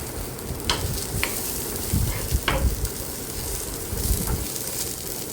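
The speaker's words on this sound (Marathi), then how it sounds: "पॅन गरम झालेला आहे कांदा टाकून घेते आधी कांदा चांगला भाजून घ्यायचा आहे" Onion frying in a hot pan for village-style egg curry, with a sizzle and scraping stirs and a few louder knocks of the spatula against the pan, close and without talk.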